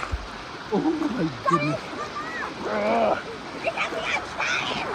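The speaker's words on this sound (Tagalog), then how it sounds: "Das ist die starke Strömung." A strong river current rushes outdoors in a steady broadband roar, with people shouting and calling excitedly over the water.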